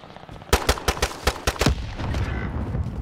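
Gunfire from an Army Navy shooting video game: a loud string of about eight sharp shots in an uneven burst, then fading into lower game noise with no talk.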